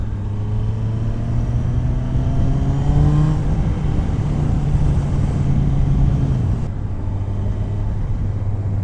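A motorcycle with its air filter and PAIR system removed, fitted with a clean air mod, accelerates hard while being ridden. The loud, close engine drone rises in pitch, drops at a gear change, then climbs again over wind rumble.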